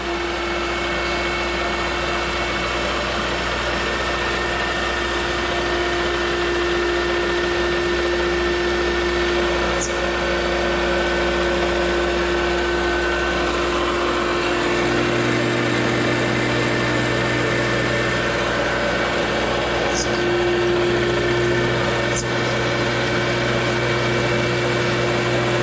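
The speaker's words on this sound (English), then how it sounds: "Start the spindle, start the coolant," A CNC mill spindle runs steadily with coolant flowing, a continuous loud machine drone with a shift in its low hum partway through and a few faint clicks, no voices.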